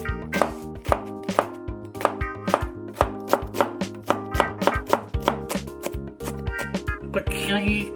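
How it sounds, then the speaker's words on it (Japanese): Rapid, rhythmic knife strikes mince an onion on a board, a dense run of close thunks at a steady pace over a tonal background. "こちらの玉ねぎをみじん切りにします"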